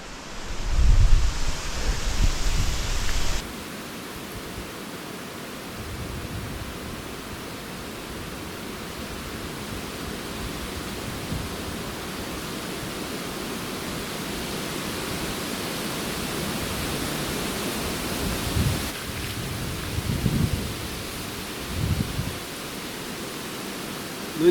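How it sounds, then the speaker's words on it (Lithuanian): Strong wind gusts across a small forest lake, a steady broad rushing roar with a heavier buffeting at the start and occasional low thumps against the microphone, and no voices. "per didelis vėjas"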